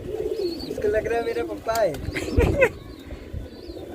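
A pigeon coos softly near the mic in a home setting, low rolling coos repeating under and between casual Hindi conversation from people nearby.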